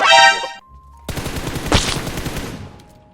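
Automatic gunfire from the battle royale game PUBG: a sustained, fairly loud burst of rapid shots lasting over a second, preceded by a brief tone and faint background, trailing off into quieter game ambience.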